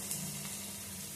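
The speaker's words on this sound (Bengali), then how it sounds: "লবণ দিয়ে বেগুনটা ভেজে নেব।" Small chopped brinjal pieces frying with salt in mustard oil: a quiet, even sizzle lasting about a second, with no speech.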